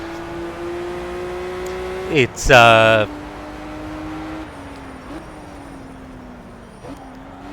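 An engine in the racing video game Project CARS as a car laps Bathurst's Mount Panorama circuit, holding a steady droning tone that climbs and shifts with gear changes. A brief louder rasping burst stands out, and someone talks over it.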